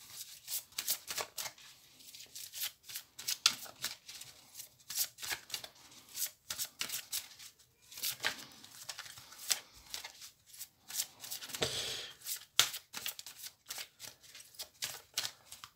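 Oracle cards are shuffled by hand in a quiet room, with soft repeated riffling and flicking bursts spread irregularly over about fifteen seconds, close and faint.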